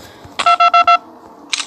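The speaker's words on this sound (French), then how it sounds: "ça c'est notre téléphone en fait qui prend une photo" A phone camera in Five Nights at Candy's 2 takes a photo with four quick, evenly spaced electronic beeps, followed by a short shutter-like burst, crisp and close.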